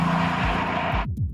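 An Aston Martin Vanquish engine throbs loudly at close range, its deep rumble holding steady for about a second before cutting off abruptly, with a few brief low tones trailing after.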